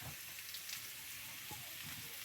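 Food frying on a clay stove, a faint, steady hiss and crackle of oil sizzling quietly throughout, soft and continuous with no voices.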